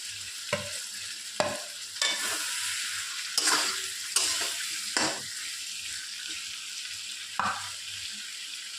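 Green chilli, ginger, cumin and poppy seed pastes frying in a pan, with a steady sizzle broken by repeated scraping stirs of a spatula, close and fairly loud with no talk.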